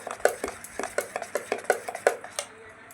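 Coconut dosa batter mixed by hand in a bowl, a spoon clinking against the sides in a steady run of about ten sharp, close knocks.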